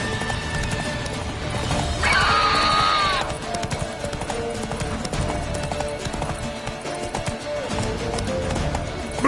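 Hooves of Roach, a horse in The Witcher 3 on PS5, clip-clop in a steady rhythm under dense game ambience and music, with a brief whinny-like tone partway through.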